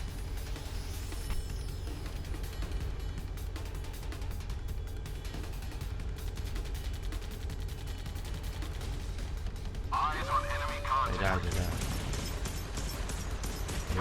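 Naval cannon and autocannon fire from a British frigate, HMS Glasgow, in a warship video game: a steady rumbling bed of rapid gunfire, with louder bursts of shots and mechanical clatter toward the end.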